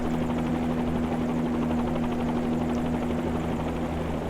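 A helicopter in Microsoft Flight Simulator 2020 during an evening tour over Los Angeles. Its steady, loud rotor and engine drone holds an even hum throughout with no pauses, alone without voices.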